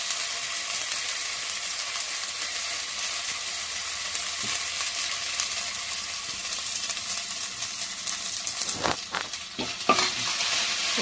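Cloves and spices frying in a pan for a homemade mushroom curry, giving a steady hiss of oil sizzling throughout, then a few sharp spoon scrapes and stirs near the end, close and without talk.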